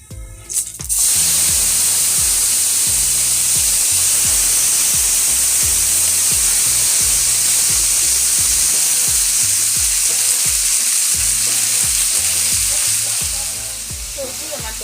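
Mixed vegetables tipped into hot browned oil for a wedding-style vegetable roast, hitting with a loud, steady sizzle that starts abruptly and crackles on continuously and close up, with no talking.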